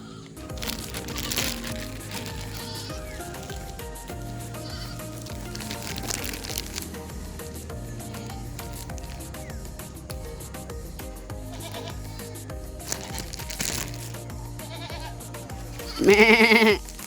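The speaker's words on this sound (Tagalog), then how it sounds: "Dami palang kambing dito sa kabila." Background music plays steadily, then a single loud goat bleat bursts out near the end.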